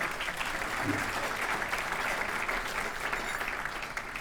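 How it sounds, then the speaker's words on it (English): A roomful of people applauds elected officials at a community gathering, a dense, even wash of clapping heard from a slight distance, sustained and unbroken for the whole stretch. "Give all of the elected officials a big round of applause."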